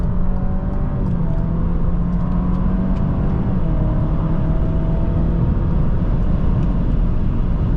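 A 2021 Alfa Romeo Giulia Ti accelerates at full throttle out of a corner at about 50 mph, heard from inside as a loud, sustained engine drone with a strong low rumble.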